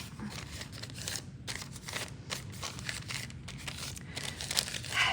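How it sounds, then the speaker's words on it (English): Quiet crinkling and rustling of a small piece of catalog paper being handled and folded during collagraph printmaking, with irregular soft crackles close by. "a little piece of catalog paper, fold it up"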